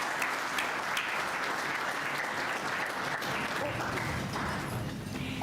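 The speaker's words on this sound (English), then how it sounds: "And a big round of applause for his fabulous work." Applause for a winner at a building and construction industry awards night, a steady roomful of clapping sustained for several seconds at moderate level, with no voices standing out.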